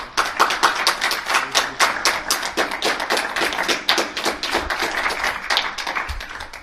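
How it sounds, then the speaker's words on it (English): An audience applauds the finalists at a tournament presentation ceremony at the Erskine Bridge in Glasgow, with dense, steady hand clapping that stays near and lively for several seconds with no talking. "a round of applause for both our finalists"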